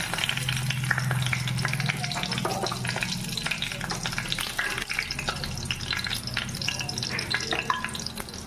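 Cinnamon sticks and bay leaves sizzle steadily in hot oil in a pan, a dense, even frying crackle with a few brief stirring scrapes.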